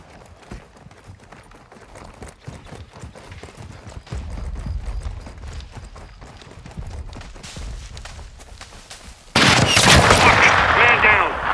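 Al-Qaeda sniper fire from a rooftop in Call of Duty Modern Warfare II's Al-Mazrah mission: scattered gunshot cracks and footsteps through a tense firefight, ending in a sudden loud, close blast of noise.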